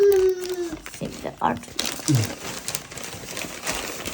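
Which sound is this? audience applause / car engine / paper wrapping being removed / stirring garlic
paper wrapping being removed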